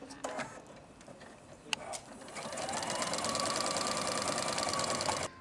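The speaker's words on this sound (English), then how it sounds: "we're going to sew it in place using our 1/2 inch seam and our walking foot along the edge" A sewing machine with a walking foot runs a half-inch seam attaching binding to a baby quilt, starting with a few clicks and short bursts, then settling into a steady, fast, close mechanical whir.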